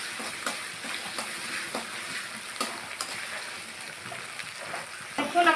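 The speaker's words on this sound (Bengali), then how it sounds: "এবার মশলাটা বেশ ভালো করে কষিয়ে নেব।" Spice masala sizzles and is stirred in a pan for a banana-stem dal, a moderate crackling fry punctuated by repeated spoon scrapes and taps, fairly close.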